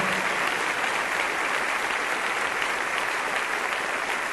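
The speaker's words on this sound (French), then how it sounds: "Un fort applaudissement pour notre sœur Marluza" Church congregation in La Colina, Bogotá, applauding during a Bible study gathering, a dense, steady wash of clapping that holds evenly throughout.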